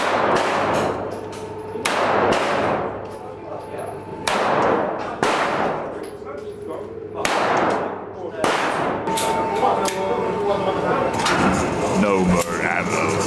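Repeated gunshots at an outdoor shooting range, sharp loud reports spaced about a second apart with echoing decay, while people talk and react between shots.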